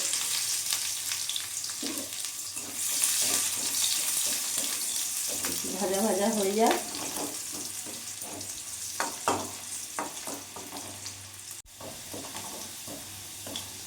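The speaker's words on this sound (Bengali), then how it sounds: "তেলটা গরম আছে এরই মধ্যে আমি আদা রসুন কুচি দিয়ে দেবো" Chopped ginger and garlic fry in hot oil in a home kitchen pan for spicy chilli chicken, a steady broadband sizzle with scattered stirring clatter running throughout, close and moderately loud.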